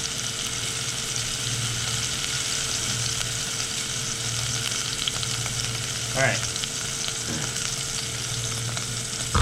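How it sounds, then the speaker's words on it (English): Brisket sizzles fat side down in a hot oiled pan, a constant crackling hiss with a few utensil clinks; someone briefly speaks. "So you hear the sizzle."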